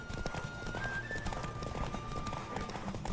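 A horse galloping during a race in The Witcher 3: Wild Hunt, with a rapid steady clip-clop of hooves under a sustained musical tone, continuous and moderately loud with no talk.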